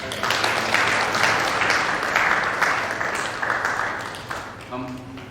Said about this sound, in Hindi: हम हार्दिक हार्दिक अभिनंदन वंदन करते हैं और हम ताली बजा के एक बार फिर